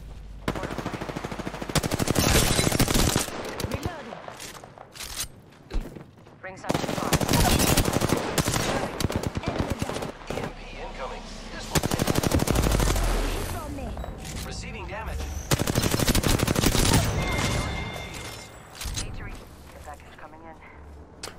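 Bursts of video game gunfire in a battle royale match, rapid automatic volleys in several loud clusters separated by short lulls, with players talking over the shooting.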